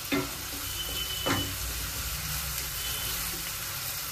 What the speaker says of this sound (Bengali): এবার হচ্ছে এইগুলোকে আমি একটু হালকা করে ভেজে নিচ্ছি, খুব অল্প করে।